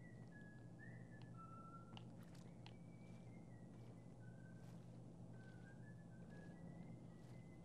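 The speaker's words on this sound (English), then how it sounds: "I hear whistling off in the distance over here" Distant whistling drifts through a Minecraft Backrooms level in a video game, thin wavering tones rising and falling intermittently over a steady low ambient hum, faint and far off with no talk.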